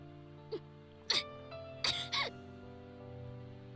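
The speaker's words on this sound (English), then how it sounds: "Nao suddenly starts coughing." A few brief video game coughs from a female character, one quick then two closer together, sound over a quiet background music track.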